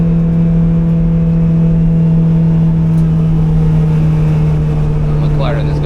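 A Honda Integra Type R with a K24 engine on a track lap, its engine droning loud and steady from inside the cabin, holding a constant note with a faint squeal near the end.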